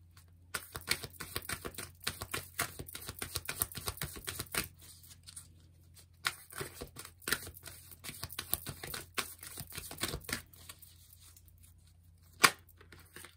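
Tarot cards shuffled for a reading make crisp, rapid riffling and flicking bursts in irregular clusters with short pauses, close and fairly quiet, ending with a sharper single tap.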